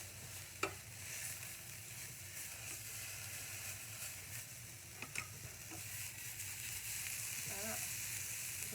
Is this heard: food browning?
yes